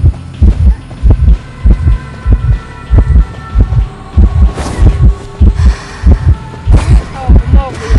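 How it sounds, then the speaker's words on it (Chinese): A heartbeat warning from the video game Identity V: loud, close, evenly spaced double thumps pulse about twice a second over a low hum, with faint in-game tones in the background. "我他妈都心跳成这了"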